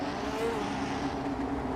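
A pace car engine in a racing video game, heard as a steady, moderately loud drone with no talk over it.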